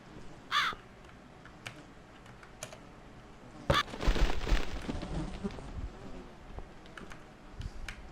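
A crow caws in a video game, two sharp calls a few seconds apart over a soft rain-like ambience and scattered clicking, with a burst of rustling noise after the second caw.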